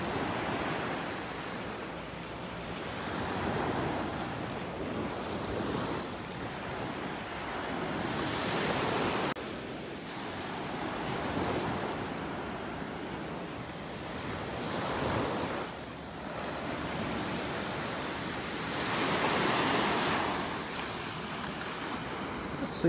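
Ocean waves on a North Naples, Florida beach with the tide coming in, a steady broadband wash of surf with swells building and breaking every few seconds, close and continuous with no talk.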